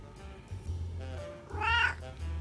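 A house cat gives a clear, drawn-out meow close by, rising and falling in pitch, over a low steady indoor hum with a few softer vocal sounds before it.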